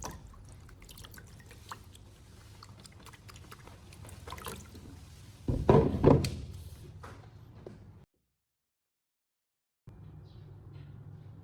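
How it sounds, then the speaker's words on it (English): Rinse water is poured from a tilted car battery into a plastic container, a brief, louder gush of liquid amid quiet dripping, followed by a silent gap. "Then I tilted the battery and poured the rinse water into a plastic container."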